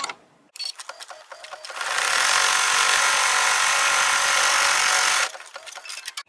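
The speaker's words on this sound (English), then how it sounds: "So now we're going to stitch the snowman body." An embroidery machine stitches a snowman body design onto a pie tote, running as a loud, steady mechanical whir for about three seconds, with quieter clicks and handling before and after.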